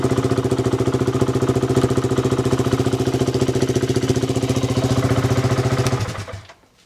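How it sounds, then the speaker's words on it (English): A motorcycle engine idles steadily up close with an even, pulsing throb, then cuts out and fades to near silence in the last second. "So let's just turn the bike on."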